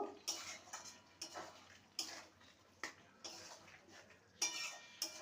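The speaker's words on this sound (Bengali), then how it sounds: "এবার ভালো করে মিশিয়ে নেব" A spoon mixing papaya and potato curry with spices in a metal pot, a series of scraping strokes and clinks against the pot at a slow, uneven rhythm, fairly quiet and close.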